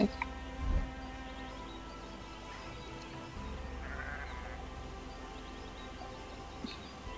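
A sheep bleats in the video game Grim Legends, a soft, distant cry over a quiet, steady hum of game ambience, with a few faint chirps; no one speaks.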